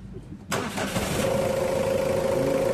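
A Mitsubishi Adventure engine, one that overheats quickly and misfires, cranks and catches, then settles into a steady idle with a rough, low rumble and a faint whine, heard close.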